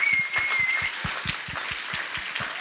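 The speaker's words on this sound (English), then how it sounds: "Please join me in giving our cohort an enormous round of applause" Rhythmic, unison clapping from a demo day audience cheering a startup accelerator cohort, about a dozen evenly spaced claps over a wash of scattered applause.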